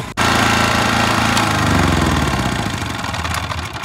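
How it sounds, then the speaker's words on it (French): A generator runs loud and close with a rough, chugging drone that kicks in abruptly and holds steady, easing slightly toward the end. "on va éteindre le groupe"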